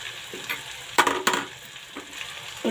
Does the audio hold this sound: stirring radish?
yes